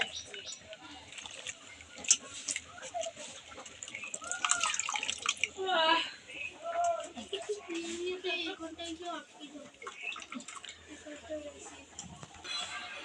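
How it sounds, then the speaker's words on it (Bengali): Drumstick flowers are rinsed in clean water in a bowl, with steady splashing and swirling water close by under a woman's speech. "সেটা পরিষ্কার জলে ভালো করে ধুয়ে নিচ্ছি"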